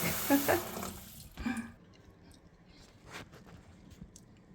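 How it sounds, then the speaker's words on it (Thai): Warm water gushes from a tap to wash freshly picked dandelion greens in Switzerland. The rush is loud and close at first, then drops to a softer trickle and splashing against a low background. "เปิดน้ำ อุ่นๆนะคะทุกคนน้ำอุ่นนะคะล้างน้ำแรก"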